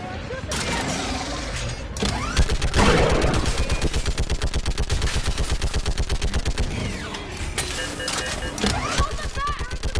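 Automatic gunfire in a Mass Effect 3 battle at a breached barrier, a long run of fast, evenly spaced loud shots with a thick burst near the start, layered with shouted voices and battle noise.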